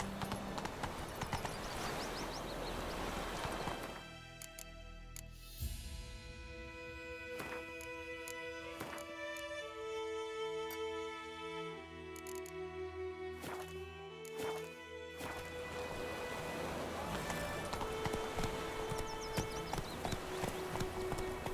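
Hooves of Roach, a horse in a video game, clip-clop rhythmically at a gallop, loud at first, then fading under game music and effects before the galloping returns strongly near the end.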